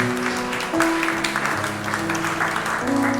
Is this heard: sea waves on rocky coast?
no